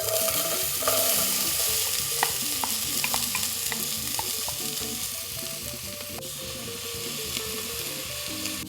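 Onions, ginger and garlic sweat in melted coconut oil for a vegan curry, giving a steady close sizzle with crackles and intermittent stirring scrapes and taps, even and unbroken from start to finish.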